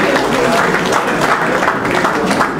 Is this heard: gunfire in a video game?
no